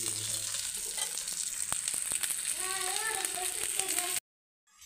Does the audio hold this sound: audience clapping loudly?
no